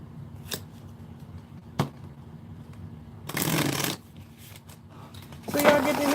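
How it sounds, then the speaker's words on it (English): A deck of tarot-style cards is shuffled by hand indoors, two distinct bursts of riffling several seconds apart, with a couple of sharp taps earlier against a quiet room hum. "I'm going to go ahead and shuffle my cards while I do this"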